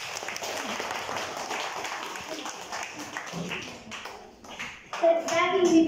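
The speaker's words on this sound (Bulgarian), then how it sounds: "Моля, аплодисменти." An audience claps steadily at a fourth-grade class farewell celebration at a school in Kresna, Bulgaria. The dense applause thins after a few seconds as children's voices and brief tonal sounds come up near the end.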